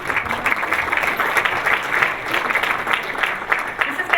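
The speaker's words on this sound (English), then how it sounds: "So round of applause for you and recognition of all that you do." Audience applause at a business appreciation breakfast in Northglenn, a steady room-filling clatter of many hands clapping for about four seconds with no voices over it.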